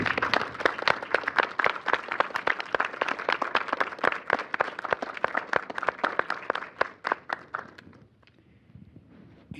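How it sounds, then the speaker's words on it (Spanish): An audience at a contemporary music round-table session gives sustained applause, dense rapid clapping at close-to-mid distance that thins out and fades near the end. "Pues démosles un aplauso"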